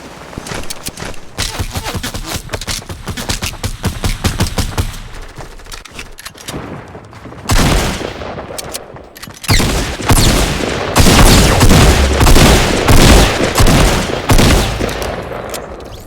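Bursts of rapid gunfire from an online shooter game ring out loud and close: a dense string of quick shots, a short pause, then heavier, longer volleys with booming hits, with no talk over them.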